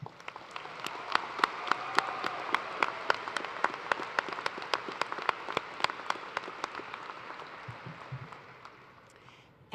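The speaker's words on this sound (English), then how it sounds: "join me in applause of acknowledgement for the high scholastic achievement" Sustained applause from a large crowd at a university commencement ceremony, steady clapping throughout that gradually thins and fades toward the end.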